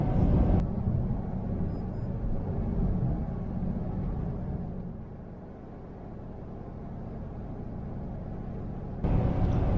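A car driving along an open road in sunshine, heard from inside as a steady, loud low rumble of engine and road noise that dips slightly midway, with no talking.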